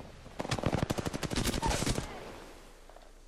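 Rapid bursts of automatic gunfire in a video game gunfight, a dense volley of sharp close shots for about two seconds before fading into quiet.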